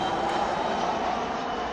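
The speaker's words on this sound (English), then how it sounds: "So airplane, little airplane, not a big one." A small airplane passes over a city community garden, its engine a steady, fairly loud drone that holds for the whole moment with no voices.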